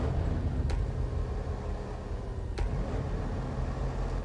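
Truck engine in the off-road driving game Snowrunner, a continuous low rumbling drone with a couple of short sharp blips, close and steady, no voices.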